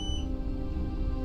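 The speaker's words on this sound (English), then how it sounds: "the beeping you hear in the background is the battery backup" A battery backup unit running after a power loss gives a single short electronic beep at the start, then a steady low electrical hum carries on underneath.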